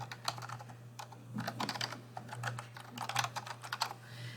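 Computer keyboard typing in a quiet room, rapid irregular bursts of clicking keystrokes with brief pauses, close and soft, over a low steady electrical hum.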